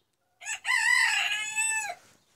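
A newly bought rooster crows once, loud and close, a clear drawn-out cock-a-doodle-doo lasting under two seconds with a short lead-in note.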